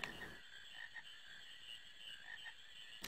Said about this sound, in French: Quina, tu veux cette grenouille?